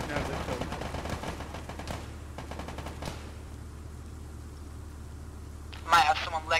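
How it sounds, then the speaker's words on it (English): Gunfire crackles from a building in the military game Arma, a run of rapid shots over the first three seconds, then a lull, with voices talking and a louder burst near the end. "They're shooting out of this building."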